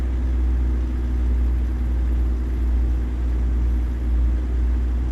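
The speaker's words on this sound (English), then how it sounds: "when you get above like 1300 revs or so, it starts to sound kind of clackety" A heavy truck engine in American Truck Simulator, hauling a heavy load, drones with a steady low rumble that stays loud and continuous throughout without a break.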